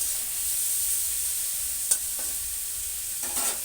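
Cauliflower and shrimp frying in a pan with salt and turmeric, a steady high sizzle with a few faint scrapes of stirring, close and even throughout, no talking.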